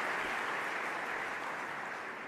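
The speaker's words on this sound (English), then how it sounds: "I just tried to introduce myself over your applause, which I don't think is probably going to work out for me." Audience applause at the 2018 IGF Awards ceremony: a dense, sustained wash of clapping from a large crowd in a hall, steady and fairly distant, with no talking over it.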